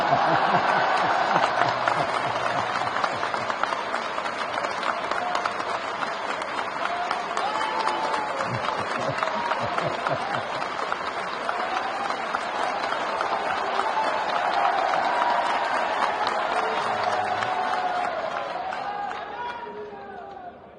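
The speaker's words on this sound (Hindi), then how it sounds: "इतनी बढ़िया तालियां तो यही बजती है" Sustained applause from a large crowd at a panchayat secretaries' conference in Bhopal, a dense steady clapping that holds for about twenty seconds before tapering off at the end.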